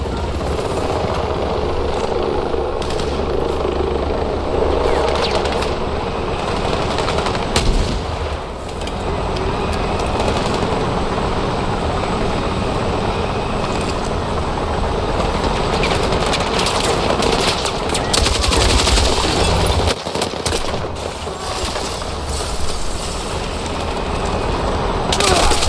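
Dense automatic gunfire and heavy weapon bursts from a Battlefield 6 firefight, loud and nearly continuous with sharp cracks and booms layered over a constant roar of battle.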